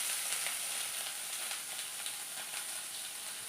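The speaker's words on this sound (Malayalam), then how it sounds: "വഴറ്റാൻ പോകണം." Food sautéing in a pan over a gas flame, an even, bright hiss of frying oil with faint stirring ticks, steady and unbroken with no voices.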